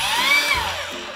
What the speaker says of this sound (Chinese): 砂轮机，好，充电砂轮机